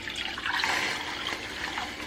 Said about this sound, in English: now I'm just gonna pour in my water and vinegar